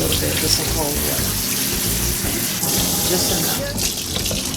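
Cold tap water pours steadily into a kitchen sink over cooked noodles for mac and cheese, a loud continuous rushing splash close by, with faint music in the background.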